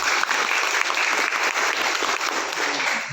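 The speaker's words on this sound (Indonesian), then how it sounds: "Tepuk tangan dulu untuk pramuka Jember." Loud, dense applause from a scout gathering cheering the Jember scouts, continuous clapping for about three seconds with no voices on top.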